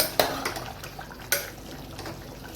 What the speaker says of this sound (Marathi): आता आपण बटाटे टाकूया आता टाकली बटाटी